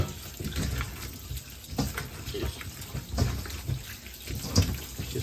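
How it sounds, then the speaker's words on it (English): Tap water runs over salted pickles being rinsed in a kitchen, giving a steady, fairly quiet splashing stream with small shifts as the pickles are turned under the flow. "Just running it through water."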